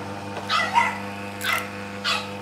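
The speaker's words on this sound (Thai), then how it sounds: "ตรงนี้เริ่มมีเสียงหมาเห่าด้วยนะ" A dog barks outside a house in three short, separate bursts over a steady electrical hum.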